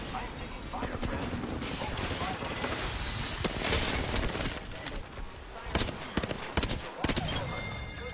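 Gunfire in the Apex Legends video game, fast bursts of sharp shots and clattering impacts over several seconds, growing louder and more scattered toward the end, with voices talking at points.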